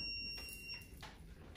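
An electrician's voltage tester emits a thin, high, steady electronic beep resembling a smoke alarm, faint and close, holding for most of the moment before cutting off.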